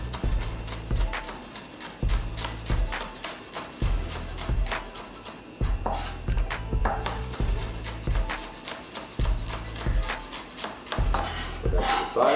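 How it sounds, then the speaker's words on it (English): Knife chopping chili peppers into small bite-sized pieces on a board, a steady series of sharp, close taps coming in quick bursts with short pauses between them. "I'm gonna cut them a little bit smaller because I want them into smaller bite-sized pieces."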